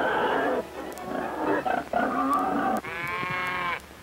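Pigs on a 1960s hog production farm give a series of loud, harsh squeals and grunts in overlapping bursts, close by, ending in a long strained squeal with no talk.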